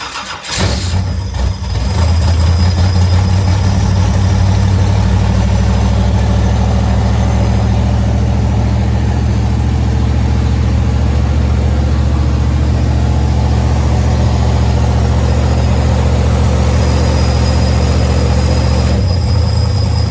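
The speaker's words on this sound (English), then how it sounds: "We're going to cold start the car." A Honda CRX Si drag race car, not run in a while, cold starts with a short crank, then catches and settles into a steady, loud, close idle with a deep rumble that holds to the end.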